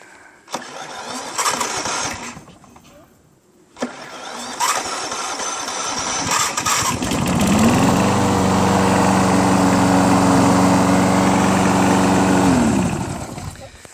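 A 1984 Snapper 3201S single-stage snowblower is key-started. Two short cranking bursts come first, then the small engine catches and settles into a loud, steady running drone before cutting off near the end.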